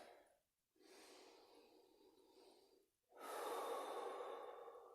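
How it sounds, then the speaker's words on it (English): Slow, deep breaths during a stretching exercise, a long airy inhale followed by a louder, fuller exhale after a short pause, close and clear with no talking. "Three more deep breaths here."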